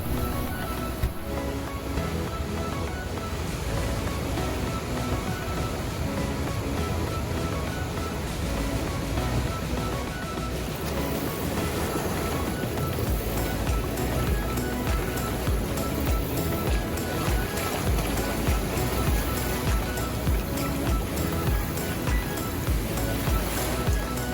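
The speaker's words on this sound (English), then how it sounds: "you can actually walk right up to the rapids before you even get to the falls" Rapids of the Niagara River just above Niagara Falls, a loud, continuous roar of rushing white water that fills the scene close by and stays steady throughout, with no voices.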